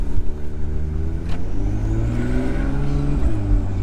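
An Acura NSX with a dual-clutch gearbox accelerating, engine note climbing in pitch and dropping sharply at quick gear shifts, heard steadily from inside the car without talk.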